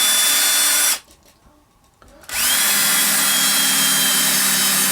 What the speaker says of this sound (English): I'm drilling a hole here.